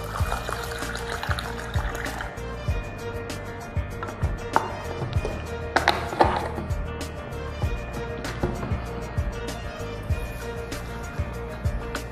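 Tap water pouring into a bowl to rinse raw rice, with a steady trickling splash throughout and a few louder clatters and knocks partway through.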